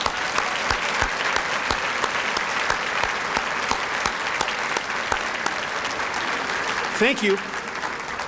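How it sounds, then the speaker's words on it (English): Sustained applause from a banquet audience for North Star students, a steady dense clatter of many hands throughout, with a brief spoken thanks near the end. "How about one more round of applause for all the North Star students?"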